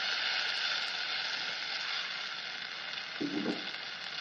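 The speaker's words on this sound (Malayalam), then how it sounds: "നമ്മുടെ പുളിവെള്ളം ഒഴിച്ച് കൊടുക്കാം കേട്ടോ." Tamarind water sizzles as it hits fried red chillies and onion in a hot pan, a steady close hiss running throughout with a brief stir near the end.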